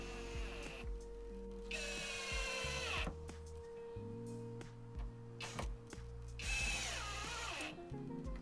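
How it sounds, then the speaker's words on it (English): Power drill driving screws to fix a window into a scrap wood shed from the inside, several short whirring bursts with pitch sweeps and pauses between, close and moderately loud. "So then I screwed the window down from the inside, and that's going through the front beading"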